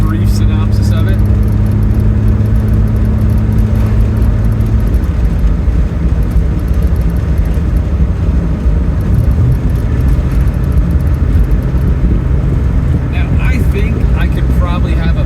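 A car engine winds down through gears on the Independence Pass road near Aspen, a steady harmonic drone that drops in pitch around the shift, loud and continuous under heavy road and wind noise.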